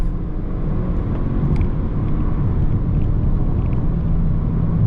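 A 2023 Genesis G70 with a 300-horsepower 2-liter engine pulls away under hard acceleration, its steady, loud engine rumble and road noise sustained throughout with no talk.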